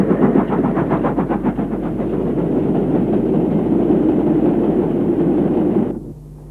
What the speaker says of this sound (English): This mogul was on an iron ore train from Banbury.